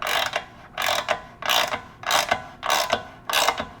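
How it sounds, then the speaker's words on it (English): A ratchet wrench, 17 and 15 mm, tightening the light mounting bolts on an FF.70 Series One roof bar on a 2021+ Ford Bronco: six evenly spaced bursts of close, crisp ratcheting clicks. "we're just going to tighten these down snug with a 17 and a 15 millimeter wrench"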